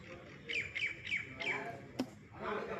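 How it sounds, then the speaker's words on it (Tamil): A sparrow calls from overhead with four quick, bright chirps in a regular rhythm, followed by a sharp click and softer background sounds. "மேலே குருவி கத்துது."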